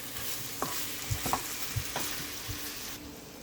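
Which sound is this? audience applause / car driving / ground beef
ground beef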